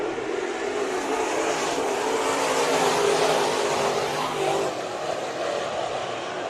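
Race cars roar through a heat race at Bakersfield Speedway, a dense, loud, continuous engine drone holding steady with a slight swell midway, close to the track.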